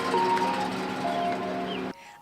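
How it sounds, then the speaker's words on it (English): An ice cream truck drives through a neighborhood, its bright tinkling melody playing loud and steady before cutting off abruptly near the end. "The sound of an ice cream truck driving through a neighborhood"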